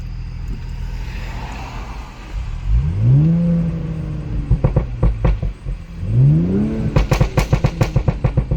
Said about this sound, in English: let's get some revs while we're here at the light